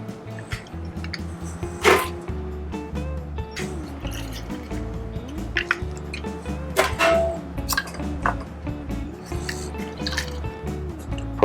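Lime juice for a mojito poured into a glass, close, with irregular drips and small splashes and a soft trickle, no talking.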